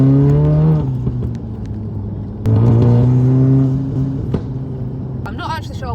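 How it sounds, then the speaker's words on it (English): A Volkswagen Golf R MK7.5 drives with its exhaust note droning loudly from inside the cabin, swelling as the engine revs up, dropping off, then building again, with brief speech over it. "I'm hoping that you'll actually be able to hear the exhaust noise properly, because my phone doesn't really do it justice"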